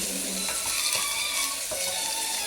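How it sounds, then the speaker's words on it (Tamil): Broad beans (avarakkai) poriyal stirred in a pan, a steady close sizzle and hiss of cooking with soft scraping and clinks of a spoon running throughout, and no voices. "இப்போ நல்லா கிண்டிட்டு"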